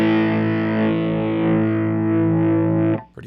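A sustained, buzzing chord runs through the Ultrawave multiband processor with its balance control engaged, a thick distorted drone holding loudly and evenly for about three seconds before cutting off abruptly.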